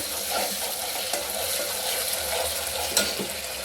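Ginger garlic paste frying over a full-flame gas burner for misal, a steady broadband sizzle with a few soft stirring knocks, fairly close and with no talking.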